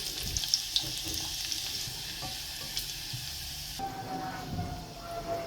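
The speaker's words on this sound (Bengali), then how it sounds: "এখানে তেল বসা দিয়েছি বাগার দিব এখানে কিছু জিরে আস্তা জিরে দিয়ে দিলাম কিছু রসুন কুচি" Cumin seeds and chopped garlic sizzling in hot oil for a tempering, a steady crackling fry with some stirring and clatter, close and moderately loud, without talk.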